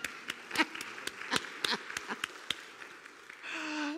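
Church congregation clapping for the choir in a service, scattered hand claps that are fairly close, ending in a short sustained tone.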